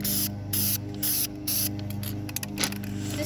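Spray can of Duplicolor engine paint coating a stripped go-kart, heard as several close, loud hissing bursts in quick succession with short pauses between them.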